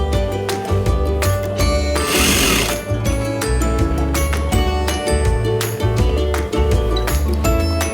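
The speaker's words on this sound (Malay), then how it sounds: "Pelajar perlu menjahit pada garisan GP." Sewing machine running steadily while stitching a sleeve for an evening garment, its rapid mechanical needle rhythm loud and close throughout, with a brief burst of noise midway.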